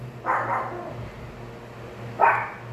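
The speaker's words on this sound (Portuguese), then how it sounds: "Passou o peixeiro, agora é o cachorro neurótico." A dog barks outside in two short bursts, one near the start and one near the end, moderately loud, over a steady low hum with a quiet gap between.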